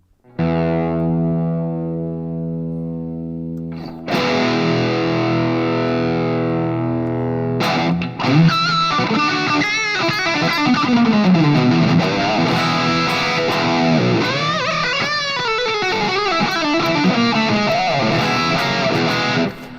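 A distorted electric guitar runs through a Fractal preset modelled on a Soldano X88 with a Friedman Greenback cab, first sustaining rich held chords, then moving into loud, saturated lead lines with bends and vibrato, continuous and up close.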